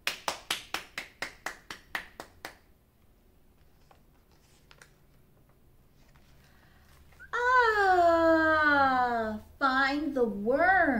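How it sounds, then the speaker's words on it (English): About ten steady hand claps during a children's storytime session, crisp and close, fading off after a couple of seconds; then near silence before a voice talks. "Clap to bring the sun again."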